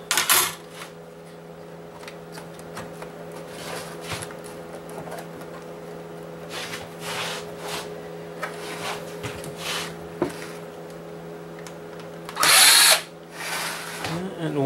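A power drill spins out small Phillips screws from a video game console being scrapped, with short bursts of whirring separated by quieter handling noise, including a loud burst near the end.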